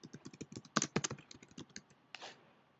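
Typing on a computer keyboard while entering text in a Google Docs document: a quick, irregular run of close, crisp key clicks, a few louder taps among them, alone without talk.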